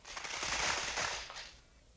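Gunfire effect from an old time radio drama, set at a cavalry fort: a dense burst of crackling shots, loud and close, fading out after about a second and a half with no talk over it.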